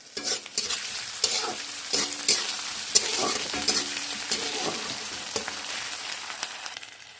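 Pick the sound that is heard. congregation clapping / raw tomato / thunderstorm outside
raw tomato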